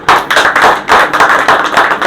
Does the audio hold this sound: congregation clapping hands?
yes